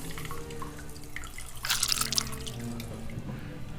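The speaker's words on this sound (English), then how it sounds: "twist it, and squeeze out a bunch more of that whey" Whey is squeezed by hand from twisted curd, trickling and dripping into a bowl, with a close, wet burst of splashing in the middle of a short run of steady drips.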